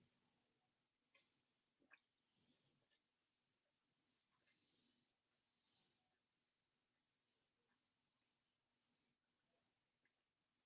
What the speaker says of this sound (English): Can y'all hear the crickets in the background?